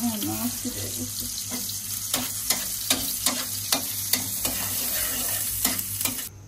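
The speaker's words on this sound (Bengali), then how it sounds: "এখানে পেঁয়াজ দিয়ে দিচ্ছি, এখন ডাল বাগার দিব" Onions and dal sizzling in hot oil during Bengali tempering (bagar), with a steady frying hiss broken by repeated sharp clicks of a spoon stirring against the pot, close and continuous with no talking.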